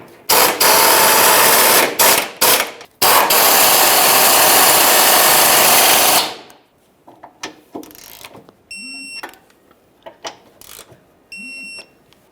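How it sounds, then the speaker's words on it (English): Bolts at the center of a rear driveshaft being snugged under a 2007-2013 Acura MDX 3.7L V6, with a long loud whirring power-tool burst broken by short pauses, then quieter ratchet clicks and metallic handling. "Now in the center, we're going to snug these two bolts."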